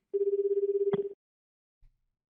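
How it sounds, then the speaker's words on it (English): A telephone rings in an audio drama, one sustained electronic trill lasting about a second, cut off by a click as it is answered, followed by a faint thump; no talking. "Kano got out his phone and called Stanley."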